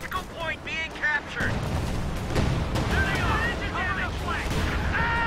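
Anti-tank strafe in Company of Heroes 2 hitting the battlefield, a run of heavy booms and crackling blasts rolling on for several seconds, loud and dense, with a commentator talking excitedly over the explosions.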